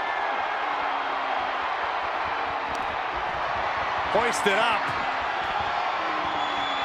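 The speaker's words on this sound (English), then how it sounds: "Taking a moment to get pumped off of this crowd's incredible energy." A dense, steady roar from an arena crowd in the WWE 2K24 wrestling video game runs throughout, with a commentator speaking briefly over it.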